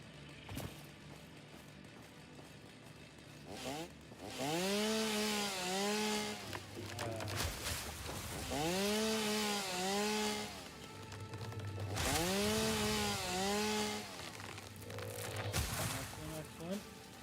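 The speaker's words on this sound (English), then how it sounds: "Only complain about the chainsaw is you're never sure how much fuel you're using." A video game chainsaw cutting wood in three repeated bursts, each revving up and rising in pitch, then cutting off, over a steady low hum of game sound.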